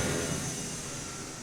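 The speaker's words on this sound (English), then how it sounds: "plane taking off." An airplane takes off in Microsoft Flight Simulator near Cat Cay in the Bahamas, a steady broad engine roar that fills the short stretch without pauses.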